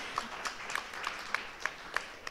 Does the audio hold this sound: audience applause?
yes